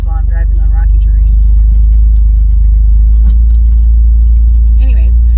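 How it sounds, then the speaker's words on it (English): A car driving over rocky terrain, its low engine rumble running steadily throughout while a person talks over it. "I'm doing this while I'm driving on rocky terrain."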